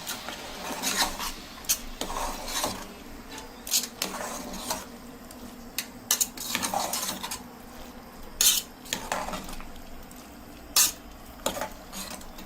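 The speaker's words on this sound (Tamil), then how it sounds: "இப்போ இதில் 2 நிமிஷம் நல்லா இந்த மசாலாவோடையே நல்லா வதக்கணும்" Food sautéed with masala in a pan is stirred vigorously, with repeated scraping and clinking of the utensil against the pan in an uneven rhythm over a soft background sizzle.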